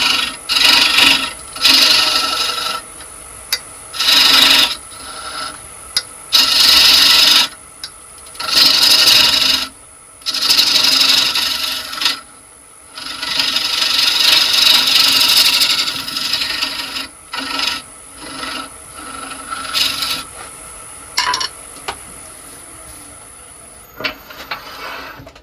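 A small scraper cuts a recess in spinning wood on a lathe, giving bursts of loud, raspy scraping separated by short pauses, with the steady whine of the lathe underneath.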